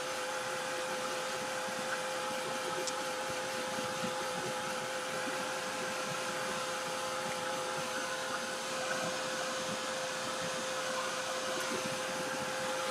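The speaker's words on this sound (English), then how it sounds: "I'm going to give that just a real quick dry to get that set before I add my flowers in." A heat tool quickly dries a mixed media layout, giving off an unbroken, fairly loud whirring blow with a steady whine throughout, and no voices over it.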